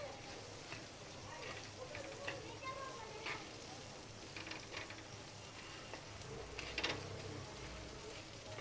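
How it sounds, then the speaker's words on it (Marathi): Coriander powder and turmeric fry in a pan while being stirred, giving a faint, steady sizzle with soft scraping and clinking from the spoon and no clear speech. "आता हे 2 मिनटं मिक्स करून घेते मसाले"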